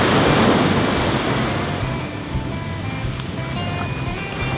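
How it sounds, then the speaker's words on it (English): An ocean wave surges and crashes on a windy shore, a loud broad rush that fades into steady surf and wind noise. "Get ready for a wave and I'll scoop up some water."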